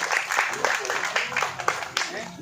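An audience at a Tamil film audio launch event applauds to welcome a music director, giving scattered, fairly near claps with speech mixed in.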